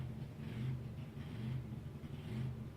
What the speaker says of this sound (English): You can definitely hear that V8 firing pattern in there, even though it's only a 4-cylinder.